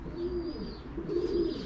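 Racing pigeons coo softly in a loft after a 350 km race, two low throaty rolling coos close by, fairly faint and without talk.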